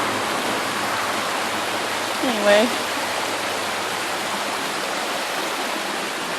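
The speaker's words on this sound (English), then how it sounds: "This is probably creek back in there." Creek flowing behind a bike trail in a park, a steady broad rushing wash of water, with one brief spoken word in the clip.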